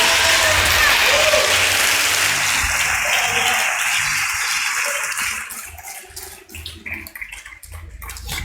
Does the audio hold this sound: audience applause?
yes